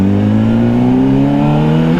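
A 2025 Honda CBR600RR sports motorcycle engine revs loud and close, its steady tone climbing gradually in pitch as the throttle opens, with no talking over it.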